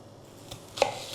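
A knife cuts a red onion into quarters on a board, a couple of soft crisp chops with a sharper cut near the end, close and quiet with no talk.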